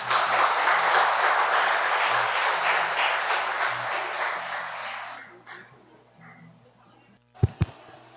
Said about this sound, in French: Sous la chaleur de vos applaudissements, accueillons Corinne Royal.